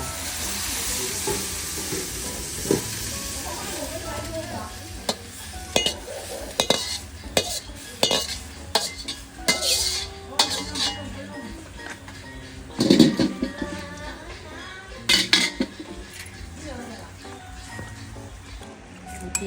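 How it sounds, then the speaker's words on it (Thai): Vegetables and shrimp stir-fry in a pan with a steady sizzle, while a utensil scrapes and clacks against the metal in irregular bursts, close and moderately loud. "ผัดผักใส่กุ้งจ้า"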